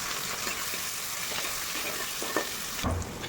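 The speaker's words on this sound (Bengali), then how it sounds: "পেঁয়াজটা আমার ভাজা হয়ে এসছে" Onion frying in oil makes a dense, continuous sizzle with a few soft clicks of a spatula, close and steady over a few seconds, with no voices.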